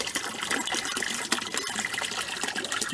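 Water trickles and splashes from a bamboo pipe into a koi pond, a steady, close, bright spill of falling water that runs without pause.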